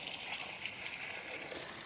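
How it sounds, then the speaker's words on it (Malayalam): An electric motor pumps water through a hose into a fish tank, a steady, even gushing hiss of flowing water heard close and alone for a brief moment. "അപ്പോൾ അതേ മോട്ടർ ഓണായിട്ടുണ്ട്. അപ്പോൾ നമുക്കിനി വെള്ളം അടിക്കാം."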